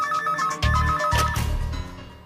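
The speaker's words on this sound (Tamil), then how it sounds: "Sir, phone sir." A telephone rings in a Tamil film scene, a steady electronic ring with repeated tones that carries over a low music bed and fades toward the end.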